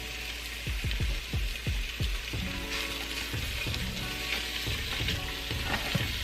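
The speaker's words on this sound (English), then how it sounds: "As you see, you're just searing your meat in the pan." Beef stew meat sears in flour-coated batches in the pot of an Instant Pot, a loud close steady sizzle with sharp crackles and spatters as pieces are stirred and turned.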